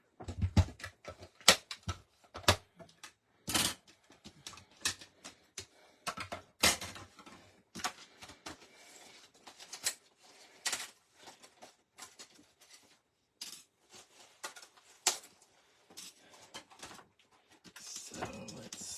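Die cutting machine cutting card images, heard as scattered sharp clicks, taps and crunches at irregular intervals, close and fairly quiet with gaps between.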